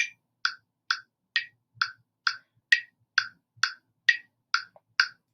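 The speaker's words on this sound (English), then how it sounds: "So with our metronome, it would sound like this." Metronome clicking steadily in 6/8 time, twelve even sharp ticks with no audible accent pattern beyond the even pulse, clear and close in otherwise silent surroundings.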